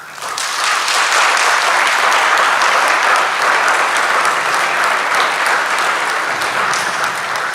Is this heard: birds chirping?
no